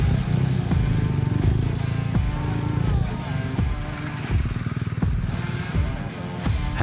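Large adventure motorcycles rumble and rev at close range while riding in a tight confined area during an off-road trophy event in Albania, engines rising and falling with clatter and voices talking over them.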